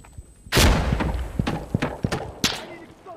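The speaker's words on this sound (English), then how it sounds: "Stop shooting!" Gunfire in the Insurgency Sandstorm shooter game: a loud burst opens, then several sharp, spaced shots and thuds ring out in a noisy battlefield mix.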